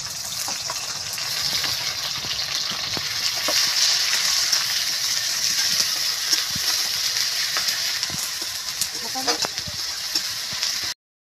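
Chopped and ground onions frying in a pan for chole bhature, a loud, steady, hissing sizzle that runs unbroken for about eleven seconds, then cuts off abruptly.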